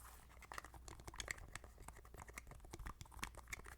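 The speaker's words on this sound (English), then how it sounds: "This is a remote, a Roku remote." Buttons on a Roku remote are pressed in quick, irregular plastic clicks and taps, close and quiet with no talking.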